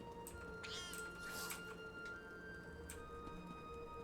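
A cat meows several times from a bookshelf inside a house in The Elder Scrolls Online, moderately faint under a steady ambient game music drone, with a few soft ticks and no speech.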